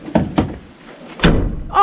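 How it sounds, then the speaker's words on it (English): A van's side door thuds several times while failing to close against a new custom-made mattress, giving two sharp knocks, then a heavier bump, then a final rattle. "Does the door close though?"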